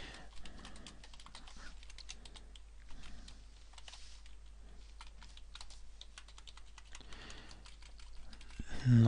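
Rapid, steady keystrokes clatter on a computer keyboard while code for a C program is typed, close and moderately loud, with a brief louder thump at the end.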